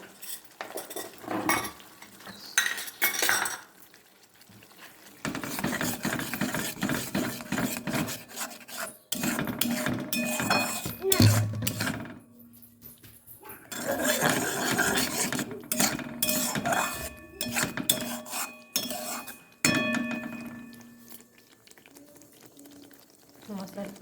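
A spice paste for a yogurt katla fish curry is stirred and fried in a pan, giving repeated close scraping and rasping strokes of a utensil in bursts with short pauses between.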